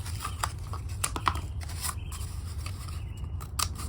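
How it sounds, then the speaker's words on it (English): Scissors snipping through cardboard kitchen roll tubes to halve them, a run of crisp close cuts and rustling cardboard handling, fairly quiet with no talking. "I've got a couple of kitchen rolls here and I just cut these in half."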